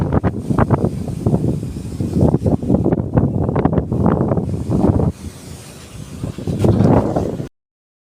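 Strong gusts of wind buffet the microphone outdoors, rumbling loud and steady with a brief lull near the end before surging again.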